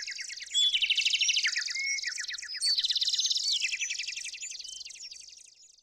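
A bird call plays as part of an audio captcha: a rapid series of high, bright chirps and warbling trills repeats steadily for several seconds, clear and close against silence, fading slightly toward the end.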